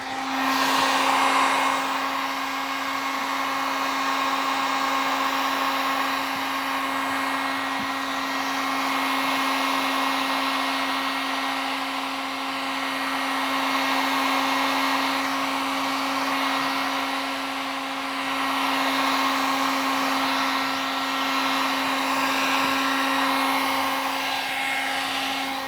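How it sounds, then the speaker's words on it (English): A heat gun blows hot air to lift stick-on pinstriping from car paint, a steady whirring fan hiss with a constant motor hum, held close and even throughout with no talking. "So I'll use the heat gun in my left hand."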